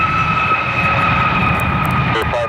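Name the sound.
airplane jet engine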